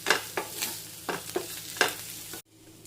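Onions with curry leaves fry in a pan as a spoon stirs them, producing rhythmic scraping strokes over a steady sizzle, close up, before cutting to near silence.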